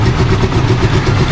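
Rusi Chariot 175 tuktuk engine running steadily at idle, a loud close, even low mechanical drone with no one speaking.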